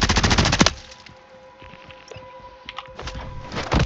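Bursts of automatic gunfire in Warzone 3 Plunder mode: a loud rapid volley at the start, scattered quieter shots through the middle, and another close burst at the end.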